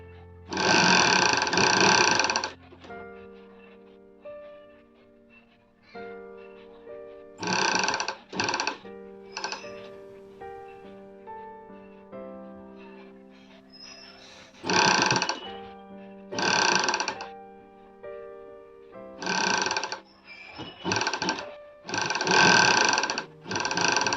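An electric sewing machine stitches a nighty collar in repeated short, loud bursts of rapid whirring, with quiet pauses between runs as the fabric is turned.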